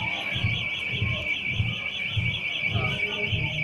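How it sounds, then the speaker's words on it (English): An alarm sounds at a cash point on a city street: a continuous, piercing high-pitched electronic tone, with rhythmic low thumps and faint background noise underneath. "Yeah, the alarm's going off."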